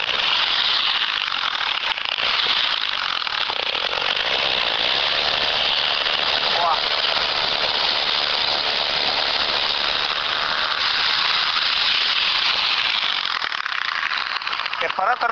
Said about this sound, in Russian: Перфоратор работает.